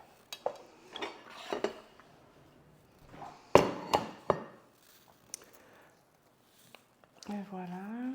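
Cutlery scraping and knocking on a plate while braised tofu is cut, with scattered sharp clinks and taps between pauses, close and moderately loud, with a voice talking near the end.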